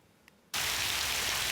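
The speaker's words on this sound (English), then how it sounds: "it's like the sound of the rain" Steady rain falls on a rainy day at Gyeongbokgung palace in Seoul, a dense, even hiss that starts abruptly after a brief quiet moment and continues loud and uninterrupted with no voices.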